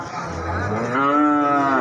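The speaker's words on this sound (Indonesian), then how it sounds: "ini di depan saya ada sapi-sapi bibitan atau sapi pedetan jantan ini guys" Young bull calves moo at a cattle market in Gorang Gareng, Magetan: one loud, close, drawn-out bellow that swells in pitch and volume over a low background.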